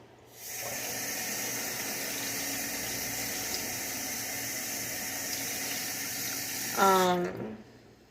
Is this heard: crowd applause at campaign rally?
no